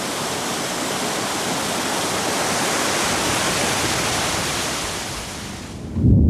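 Heavy rain falls steadily in the Northern Territory bush, a dense, unbroken hiss that holds loud and even throughout, with a brief low rumble swelling at the very end.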